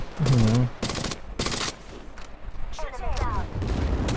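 Bursts of rapid gunfire in Apex Legends Mobile in short volleys, loud and close, with a voice talking over parts of it.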